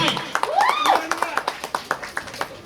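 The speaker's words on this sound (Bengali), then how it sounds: "একটি জোরে হাততালি সবাই" Audience clapping at the Basanta Utsav 2019 spring festival performance, a run of sharp, evenly spaced hand claps that carries on after a brief sung or spoken phrase at the start.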